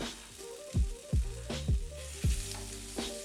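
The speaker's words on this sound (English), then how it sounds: "here I'm pan frying a couple pieces in some olive oil for about 7 minutes" Tofu sizzles and crackles steadily in hot olive oil in a pan, close by, with occasional soft knocks and scrapes of stirring.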